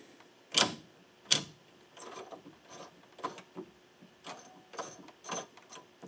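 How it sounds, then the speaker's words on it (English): A light switch pressed into its socket, giving a series of sharp plastic clicks, two louder ones early and several softer ones spaced irregularly after, close and quiet. "So now I'm gonna set the light switch into the light socket."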